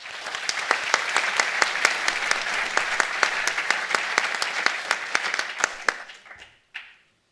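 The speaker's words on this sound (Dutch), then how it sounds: "Zeker een extra applaus waard." Audience applause at a bachelor's graduation ceremony in medicine, a loud, steady mass of many hands clapping for about six seconds, then fading out with a last brief burst.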